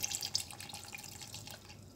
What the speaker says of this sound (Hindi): अब इसमें दूध शामिल करेंगे,